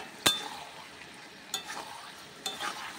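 Chili paneer ingredients with tomato sauce being sautéed in a pan, quiet background sizzle punctuated by three sharp clinks of a spatula against the pan spaced about a second apart.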